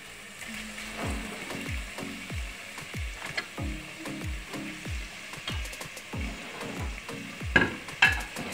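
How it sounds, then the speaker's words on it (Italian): Fresh sausage and artichoke fry in a pan, with a soft steady sizzle and a series of rhythmic scraping stirs of a utensil against the pan, fairly quiet and close. "Dopo un paio di secondi mettiamo la salsiccia a soffriggere."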